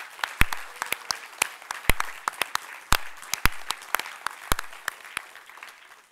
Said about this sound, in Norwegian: Så jeg vil gjerne at vi tar en ekstra applaus for de siste bidragsutdannene